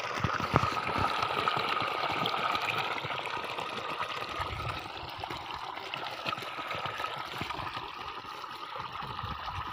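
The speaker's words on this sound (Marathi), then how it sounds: "2 इंच कंटिन्यू पाणी चालतं." Water gushing steadily from a 2-inch borewell motor pump outlet, a continuous loud rushing splash held at an even level throughout, close by.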